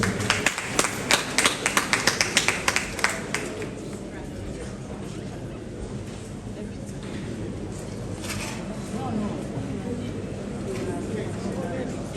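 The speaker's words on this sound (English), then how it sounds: "Let's give her a round of applause." An audience at a parliamentary ceremony gives a short burst of applause at the start, then a speaker talks over the quiet room for the rest of the clip.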